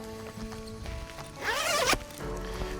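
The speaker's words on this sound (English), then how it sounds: "zip it down shut." A camper trailer zip on an MDC Jackson forward-fold camper is pulled shut in one quick rasping run lasting about half a second, close by and fairly loud, with faint handling noise before and after.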